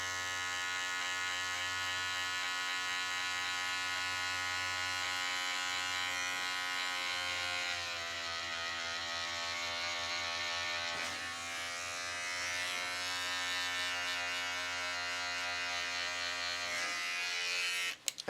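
Electric hair clippers buzzing steadily and close during a low taper self haircut, a continuous bright hum that shifts slightly in tone as the blade works, cutting off abruptly at the end.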